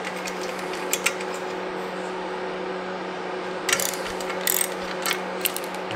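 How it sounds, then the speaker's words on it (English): Ratchet wrench fitted with a U-joint adapter and 12 mm socket backing off a nut on a car engine, giving bursts of rapid pawl clicking over a steady low hum, loudest near the end. "we're gonna use this U-joint adapter with a 12 mil socket"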